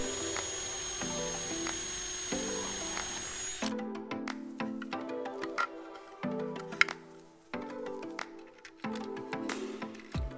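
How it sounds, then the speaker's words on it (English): A power drill bores holes into a plastic breaker box during a camper solar installation, whining in several short runs separated by brief pauses, with clicks and handling noise between bursts, fairly close. "So I went ahead and drilled four holes in the bottom."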